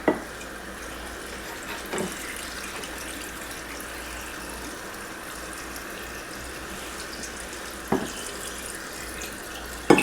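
Water running steadily from a tap into a container during apple canning, a continuous close rushing hiss with a few small knocks and clunks.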